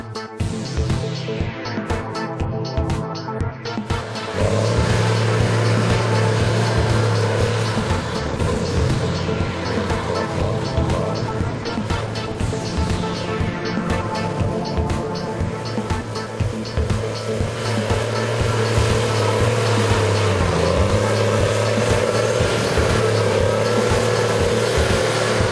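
A Tigercat 630C skidder hauls heavy mountain ash logs in Tasmanian forest, its diesel engine growling steadily and surging louder under load after a few seconds, with continuous clanking and rumbling throughout.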